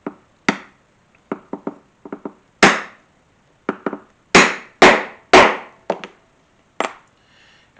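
A hammer strikes a rivet set into thin scrap leather for a keyring, giving sharp, close knocks in irregular clusters, some single and some in quick pairs, with short silences between.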